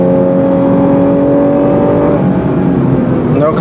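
Lexus RC 350 V6 engine drones steadily under load, loud and close from inside the cabin, with a tone that holds and then drops near the end as the car accelerates past traffic.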